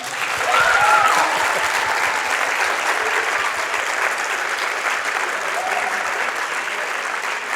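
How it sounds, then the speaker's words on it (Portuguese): Student audience at a university communication week breaks into sustained applause at the close of a talk, a dense, even wash of many hands clapping near and loud, with a few voices calling out early on. "Aplaude aí agora"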